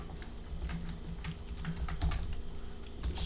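Rapid typing on a computer keyboard while writing code, a close run of uneven key clicks with short pauses, alone without speech.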